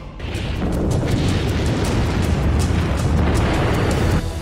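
Explosions from the war in Ukraine roll together into a loud, continuous rumbling blast that lasts about four seconds before cutting off abruptly.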